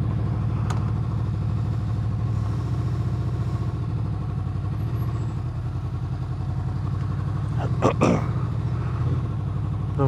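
A 2015 Honda VFR 800 with an Akrapovic exhaust runs steadily close by, a deep continuous engine drone with a faint rattle and a couple of brief clicks near the end.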